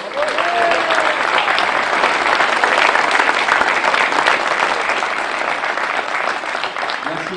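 A loud, dense round of applause from an audience at a political meeting in La Bazoge, Sarthe, honoring activists and young volunteers, sustained and close with a brief voice faintly audible early on.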